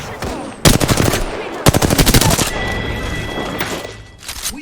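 Bursts of rapid automatic gunfire from the video game Apex Legends, two loud rattling volleys followed by a quieter spell and another short burst near the end.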